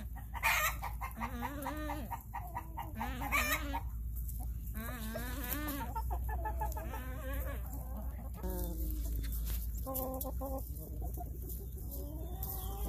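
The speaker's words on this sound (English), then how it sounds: "These are my Jersey Giants and my Brahmas." Jersey Giant and Brahma hens cluck and chirp steadily and close by in a sunny yard, with soft, overlapping calls and no talking.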